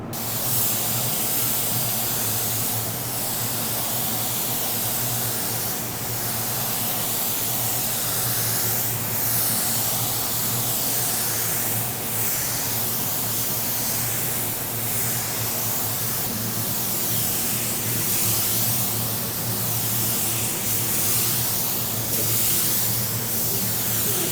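A spray gun lays pearl white paint onto a car panel with a steady, loud, continuous hiss that barely wavers, rising slightly in periodic passes across the surface.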